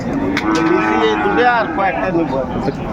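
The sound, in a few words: Sahiwal cattle at a cattle market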